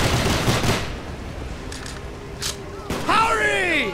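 Gunfire from a Call of Duty: Black Ops campaign mission, with a burst of shots early on, then a lull, then louder bursts near the end that blend with sweeping electronic tones and game noise.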